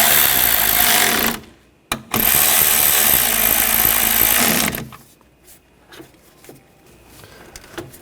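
A power tool runs in two loud, steady bursts while tightening the bolts on a Buick Encore coolant reservoir during a water outlet replacement, with a short gap between them and quiet clicks of handling afterwards.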